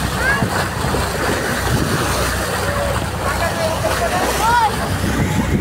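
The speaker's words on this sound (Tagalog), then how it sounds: "Medyo may kalakihan ng alon guys." Big waves slosh and splash around a boat crossing from Olango Island toward Lapu-Lapu City on Mactan Island, with steady wind buffeting the microphone and a few distant cries over the noise.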